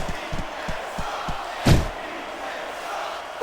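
Crowd noise at a wrestling match in WWE SmackDown vs Raw 2006, a steady murmur with a few sharp thuds and one louder surge of crowd reaction.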